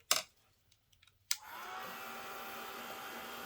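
A hair dryer blows air to dry a handmade envelope, switching on after a sharp click and a few faint taps, then running as a steady, even whoosh to the end.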